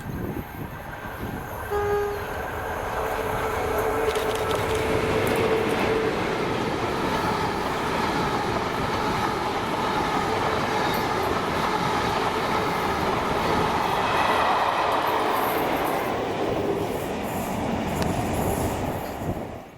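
A British Rail Class 47 locomotive, 47.593, hauling Mark III Intercity coaches passes steadily for about twenty seconds, a loud sustained diesel rumble with wheel and rail noise and a brief horn-like tone near the start.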